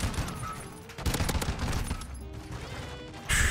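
MX Guardian fully automatic shotgun firing in Call of Duty: Modern Warfare II, loud rapid blasts in quick succession, a bursting volley around the first second and another sharp blast at the end, amid game noise.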